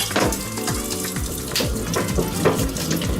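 Running tap water splashes steadily over burdock root as it is rinsed of dirt in a kitchen sink, a continuous close wash with irregular splattering and no talk.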